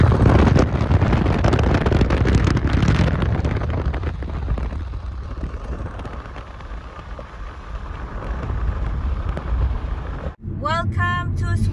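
Strong outdoor wind buffets the microphone on a road trip crossing from Norway into Sweden. The loud, rumbling gusts ease off midway, then pick up again, and a voice is briefly heard at the end.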